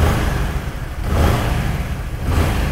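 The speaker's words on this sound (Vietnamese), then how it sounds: "Tôi mở chìa khóa lên và tôi nổ máy ạ." A car engine, on a vehicle that burns a lot of fuel and loses power under heavy load, fires up and runs at a steady idle with a couple of surging swells, close and fairly loud, with no talking.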